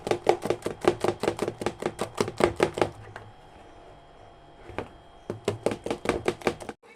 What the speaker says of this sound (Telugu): ఆ రెండు గుడ్లని బాగా ప్లఫీగా బీట్ చేసుకోవాలి